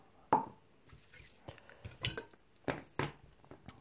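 A small metal frying pan and saucepan clank and clatter as they are handled, several separate knocks and scrapes spaced irregularly, close by with no talking.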